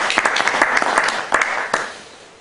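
An audience claps to welcome a speaker at the Chabot Space and Science Center, a brief burst of applause that peaks and then fades away.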